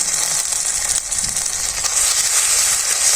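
Chili paste and turmeric sauté in a pan with a loud, steady hissing sizzle that holds constant throughout, close up and without speech.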